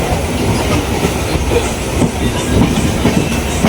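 A passenger train runs toward Pondicherry after an engine change at Visakhapatnam, passing hills in drizzling rain; a steady loud rumble of rolling wagons carries rhythmic clickety-clack of wheels over rail joints throughout.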